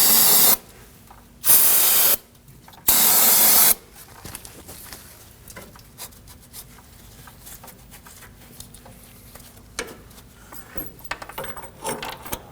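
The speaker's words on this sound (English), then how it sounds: "Now I'm just going to use a little bit of brake cleaner and a rag to clean up the bracket before I install the new hose." Three short, loud bursts of brake cleaner sprayed from an aerosol can onto a front brake hose bracket on a 2009-2014 Ford F-150, each about a second long and evenly spaced, followed by quiet workshop rustling.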